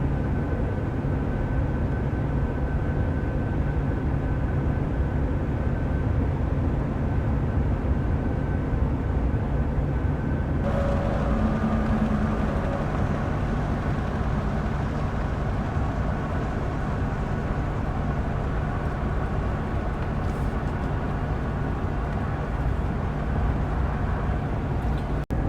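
Steady broadband road and tire roar from a GMC Sierra HD pickup on all-terrain tires cruising at 65 mph, a continuous loud hum with engine drone, no talking.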